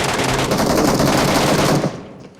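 Rapid automatic gunfire in the video game PUBG, a loud continuous close burst for about two seconds that cuts off abruptly.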